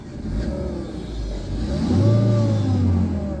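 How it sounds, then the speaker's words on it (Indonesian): A car's engine with the air-conditioning compressor engaged runs rough, a steady loud mid-pitched drone that swells and wavers as the compressor load kicks in. "kompresor sekarang muter nah coba denger"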